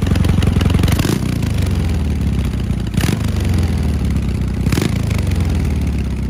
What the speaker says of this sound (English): these exhausts were equipped with removable DB killers